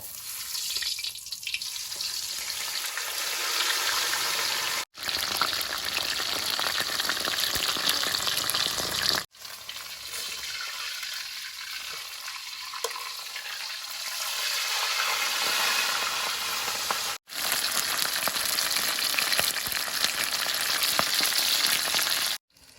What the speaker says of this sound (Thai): วันนี้คุณยาย ทอดปลาเค็มใช่ไหม เอาเลยครับ ปลาช่อนแดดเดียว